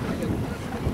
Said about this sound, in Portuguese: É pá, aqui há vento.